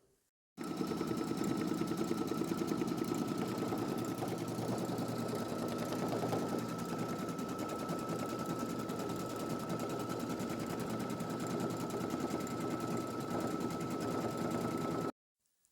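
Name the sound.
embroidery machine stitching a dragon design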